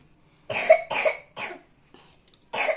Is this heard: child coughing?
yes